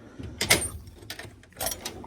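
A new shop tool box door opens with a few short, faint mechanical clunks and slides spread across two seconds, no talk.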